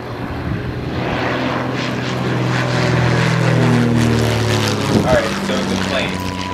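A Japanese propeller plane flies overhead, its engine drone swelling louder as it nears and then dropping in pitch as it passes and pulls away.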